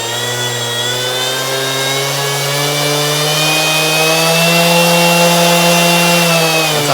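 A Kobalt 24V brushless orbital sander runs on a higher setting, giving a loud, steady, close motor whine that climbs slightly in pitch midway and holds there with no pauses.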